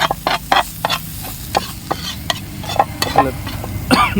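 Utensil scraping and stirring prawn masala in a pan, with a run of short irregular clinks and scrapes over a faint sizzle of frying food.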